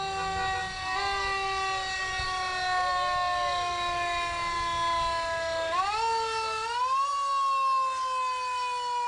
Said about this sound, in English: after we hear the siren for a little bit